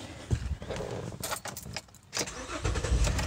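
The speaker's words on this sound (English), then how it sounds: "Now, hopefully the car will start." A car engine cranks and turns over after a jump connection, a rough churning rumble with a brief dip before it catches again.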